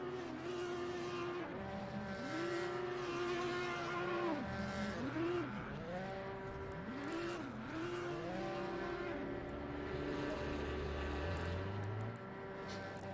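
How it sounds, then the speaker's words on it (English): GT3 race cars heading out on track at the Nürburgring in Assetto Corsa Competizione, with several engines revving and shifting, pitches swooping as cars pass, and tires squealing now and then under a continuous motor roar. "So the GT3s are going out now."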